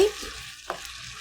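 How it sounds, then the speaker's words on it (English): Seasoning for Korean spicy stir-fried squid stirred together in a bowl, a brief soft scrape and clink of a spoon at close range, quiet and alone. "mix the seasoning all together"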